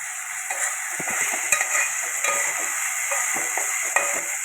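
Ingredients sizzle steadily in a pan for a mutton and sweet potato curry, with occasional scrapes of stirring and no talking.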